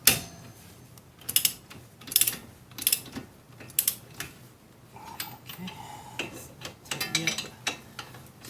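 Ratcheting torque wrench tightening the front shock bolts on a Toyota Prius to 80 foot-pounds, giving several bursts of sharp mechanical clicks spread across the span, close and fairly loud, with brief metallic handling noises between them.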